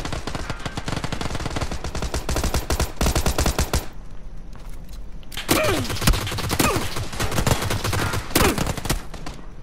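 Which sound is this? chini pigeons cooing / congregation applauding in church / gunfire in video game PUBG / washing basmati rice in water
gunfire in video game PUBG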